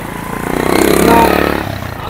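A generator is started during city flooding in heavy rain, its engine clattering up to a loud revving hum that peaks mid-way and then eases back down.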